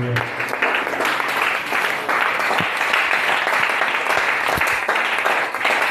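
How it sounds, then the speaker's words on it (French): A church congregation applauding loudly for the Lord, with a dense, steady wash of clapping and scattered cheers filling the space, and voices mixed into the crowd noise. "acclame très fort pour le Seigneur"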